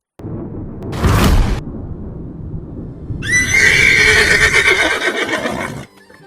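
A loud, shrill horse whinny rises and shakes for a couple of seconds, following an earlier burst of rushing noise, over a low rumbling background.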